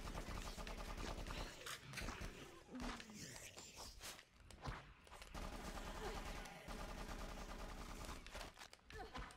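Bursts of gunfire from the GameCube game BloodRayne crackle loudly and almost without pause, dense volleys with a few short gaps, mixed with other busy game noise.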